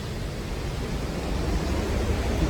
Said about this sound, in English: Quite loud down here with that water flowing.